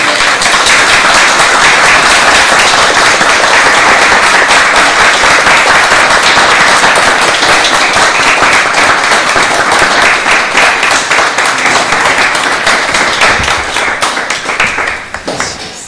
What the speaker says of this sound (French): je demande à l'audience d'applaudir une nouvelle fois